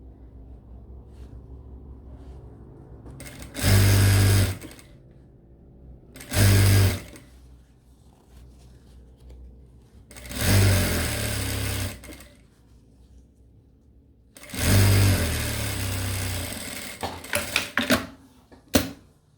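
A sewing machine stitching the lining of a small backpack in four loud, close bursts of rapid mechanical whirring, separated by quiet pauses, with faint handling noises at the end.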